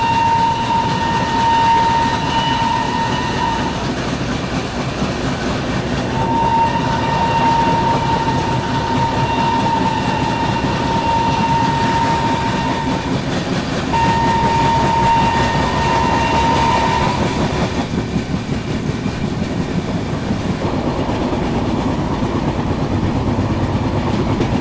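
The Lucknow–Agra Fort Intercity Express rolls into a station with a steady heavy rumble, and three long, sustained horn blasts ring out over it before the noise drops off near the end.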